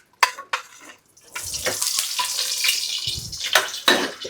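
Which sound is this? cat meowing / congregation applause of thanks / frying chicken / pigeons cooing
frying chicken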